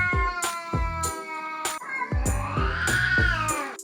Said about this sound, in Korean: 수면을 방해하는 고양이 울음소리나